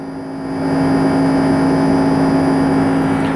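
An inverter air conditioner's compressor speeds up while refrigerant gas is being charged. It makes a steady, loud mechanical whir and hum that swells during the first half second, then holds close and continuous with no talking.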